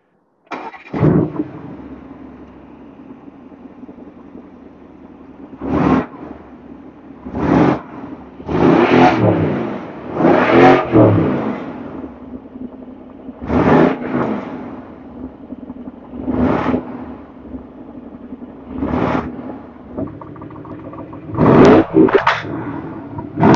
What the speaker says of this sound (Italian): Mirko accende la macchina, vi fa sentire la differenza tra la, la stock e la comodità con valvola aperta.